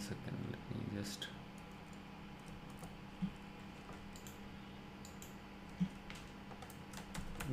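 Quiet clicking of computer keyboard keys, a few soft scattered taps with two sharper clicks, heard under a person talking.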